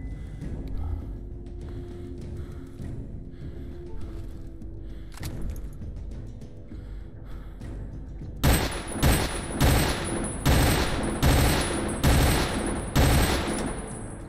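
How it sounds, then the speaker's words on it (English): Automated turrets in Fallout 3 open fire in a loud burst of rapid, close gunshots that comes in abruptly after a stretch of quieter game ambience and keeps up in repeated volleys. "I drove them into my turrets"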